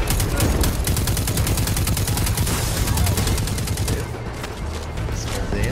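Rapid automatic gunfire in the video game Destiny 2 during a co-op boss fight, loud dense bursts of shots that ease off near the end.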